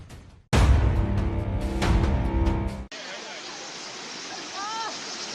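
A flooding river in Chamoli, Uttarakhand, rushes hard as a loud, dense roar fills the opening seconds, then continues as a steadier broadband wash of water, with no voices heard.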